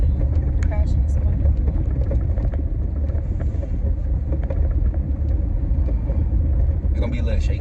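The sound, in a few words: car driving in snow during a blizzard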